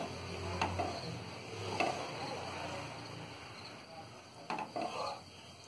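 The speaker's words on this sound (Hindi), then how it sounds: "हम इसे अच्छी तरह चला चला के पकाते रहेंगे जब तक ये रबड़ी ना बन जाए" Full cream milk is stirred in a pot as it cooks down into rabri, giving soft scraping and clinking of a spoon against the pan in a few distinct bursts over a quiet background.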